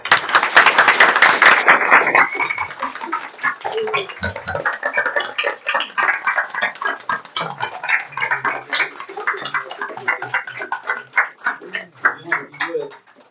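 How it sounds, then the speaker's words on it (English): Audience at a school board of education meeting claps in a loud burst that fades after about two seconds, followed by scattered chatter and movement noise with voices talking. "Let's give him another round of applause"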